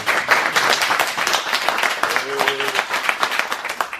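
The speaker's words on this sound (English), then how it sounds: "Andrew, please, give him a round of applause." An audience at a business-themed comedy event applauds a man named Andrew, a dense burst of clapping throughout with a brief voice and a short whistle-like tone partway through.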